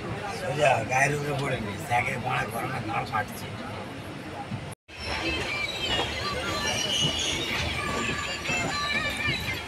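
The Puri–Howrah superfast express pulling into a platform at Howrah station, a loud rumbling roll with clattering wheels and a brief squeal, heard from inside the train under constant crowd chatter, with one short dropout midway.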